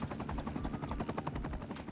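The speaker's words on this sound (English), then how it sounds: "there's so many helicopters" Helicopters in the city-builder game Cities: Skylines 2, a continuous chopping rotor drone with a pulsing beat, fairly quiet and steady throughout, with no talk over it.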